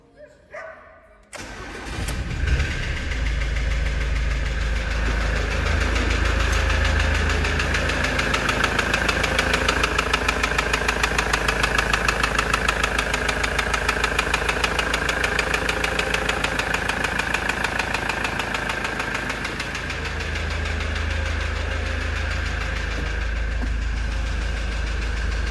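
A Ford Transit van engine cranks and catches, then idles steadily close by with a persistent strange knocking noise. Nobody speaks over the engine.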